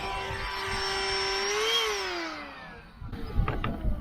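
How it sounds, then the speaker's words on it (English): A household vacuum cleaner roars steadily in a garage storage compartment under a bed in a 1987 Toyota mini RV, its whine sliding down as it shuts off, then clunks and handling knocks follow. "might as well vacuum this one too"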